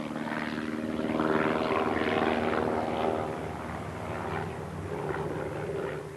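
An older test aircraft flies overhead at the Empire Test Pilot School, Boscombe Down, in middling weather: a steady propeller-engine drone with a throbbing pulse that swells a little and then eases, loud and continuous with no voices.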